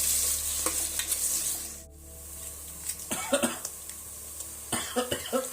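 Onions fry in a pan with a close, crackling sizzle, broken by bursts of stirring and scraping and a couple of coughs, with a brief quiet dip partway through.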